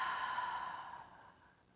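A slow exhalation during a guided meditation, a soft breathy whoosh that starts fuller and gradually fades away over under two seconds, close and quiet with no talking.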